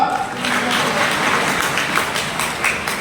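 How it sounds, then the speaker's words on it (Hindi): A seated crowd at a Sant Kabir Jayanti programme in Chomu, Jaipur, Rajasthan claps loudly in a sustained, dense burst of applause with a faint voice in the mix. "जोरदार ताली बजाओ"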